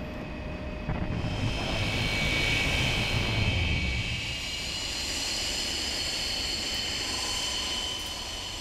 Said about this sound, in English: The engine is running, the machine is ready for takeoff.